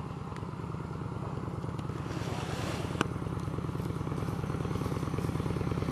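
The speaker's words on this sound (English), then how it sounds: "as a motorcycle approaches" An approaching motorcycle's engine rumbles with a steady, throbbing pulse on a road in Myakka River State Park, holding fairly constant and slowly growing a touch louder; no one speaks.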